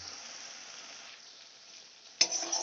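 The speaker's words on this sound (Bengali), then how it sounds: "মশলাটা আমি ভালো করে কষিয়ে নেব।" Spices frying in a pan for a boal fish curry: a soft, steady hiss at close range, then a sudden louder scrape and sizzle near the end as the mixture is stirred, with no talking.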